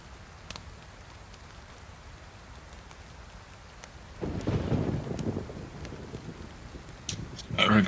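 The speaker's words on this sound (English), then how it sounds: "It's never going to stop raining." Rain and thunder in the video game DayZ set in Chernarus, a steady patter of rain throughout with a low rolling thunder swell midway and a sharper crack near the end.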